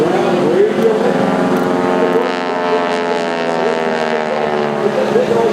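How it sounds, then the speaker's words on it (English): A T-6 Texan with a 340 cubic inch radial engine passes at a seaside airshow, its droning harmonic buzz loud and sustained, shifting pitch as it flies by, under an announcer's voice over loudspeakers. "340 cubic inch round radial engine."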